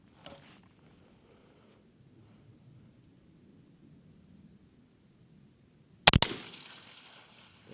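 A 22 DPC Wildcat 18-inch AR15 rifle gives one sharp, loud shot after a long quiet stretch of faint low rumble. A brief echo trails off after the blast.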